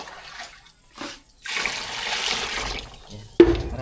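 Water poured into a pot while cooking forest snails, a steady splashing pour lasting over a second, with a short clank of metal at the end and quieter handling before it.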